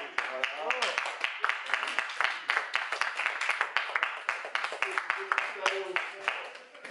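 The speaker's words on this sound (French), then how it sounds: "je vous demande de les applaudir très fort" An audience claps at an evening gathering. Fairly close, rhythmic hand claps keep a quick, steady beat for several seconds, with voices speaking and calling over them.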